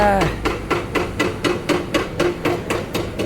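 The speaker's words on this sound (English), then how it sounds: "excavators with the big jackhammer that they use," Rapid, steady pounding of an excavator-mounted hydraulic breaker hammering concrete at a construction site on a street corner, loud and continuous with a regular rhythm.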